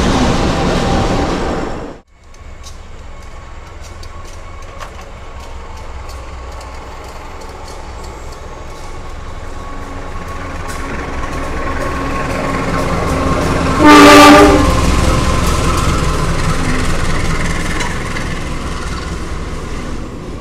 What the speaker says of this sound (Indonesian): ini rangkaian lokomotif dari kereta api Baturaden Express sedang melintas langsung di jalur berapa nih